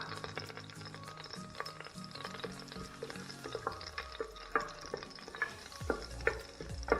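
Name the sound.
cinnamon and cloves frying in hot oil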